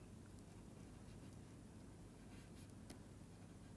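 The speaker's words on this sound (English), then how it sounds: "So, let me just write that." Faint handwriting scratches from a pen or marker working out a maths derivation, quiet and continuous under steady background hiss, with a few brighter strokes near the end and no talking.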